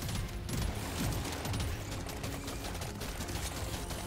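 Continuous dense weapons fire from the Deep Rock Galactic: Survivor demo, a steady loud clatter of rapid shots layered over game music with no pauses.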